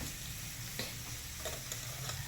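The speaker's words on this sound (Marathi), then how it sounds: "त्याच्यानंतर आता ह्याला आपल्याला हलवायचं आहे चांगलं" Spicy village-style brinjal and potato curry is stirred in a pan, a steady close sizzle of frying with soft scraping of the spoon throughout.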